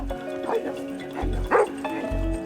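A dog barks and yips in short bursts, about three sharp barks over a steady hum, fairly close and loud.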